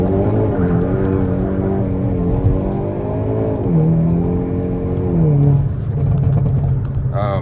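Hyundai Kona N pulling hard away from a traffic light, its engine note climbing steadily through the gears with shifts between, loud and close from inside the cabin.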